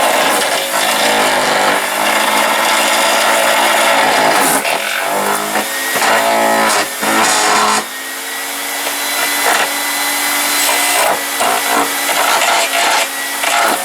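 A Lawnmaster 15-amp electric wood chipper chews through a 1-inch branch, a loud, harsh whining grind with rough cracking bursts and brief dips as the wood feeds through, close and continuous.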